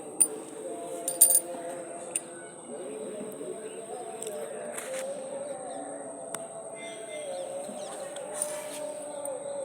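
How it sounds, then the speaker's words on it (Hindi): Birds call in a Bihar village, with soft cooing and chirps over a quiet rural background and a few sharp clinks near the start. "पक्षियों की आवाज़ सुनो"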